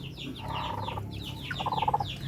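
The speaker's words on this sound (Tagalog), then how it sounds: "yung ating naglilimlim na chicken" A brooding native hen clucks and churrs close by, low throaty murmurs broken by a run of rapid, rhythmic clucks, with other chickens faint in the background.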